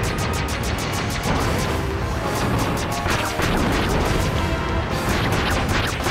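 A boss launching rockets in Kirby's Return to Dream Land, heard as a loud, steady stream of rapid repeated bursts and crashes that carries on throughout.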